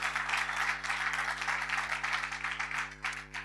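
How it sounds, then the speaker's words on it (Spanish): A church congregation applauds in a steady, continuous wash of clapping that holds at an even level throughout, with a low steady hum underneath. "Den un aplauso al Señor, no se quede atorado con el aplauso."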